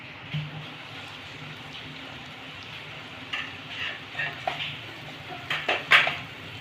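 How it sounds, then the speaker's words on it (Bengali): Masala spices and softening tomato sautéing in a pan on low heat, a soft steady sizzle with a metal spoon scraping and stirring, the clinks growing louder toward the end. "লোতে রেখে এক মিনিটের মতন আবারও মশলাটাকে আমি ভালো করে কষে নেবো"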